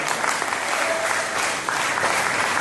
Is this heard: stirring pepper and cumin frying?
no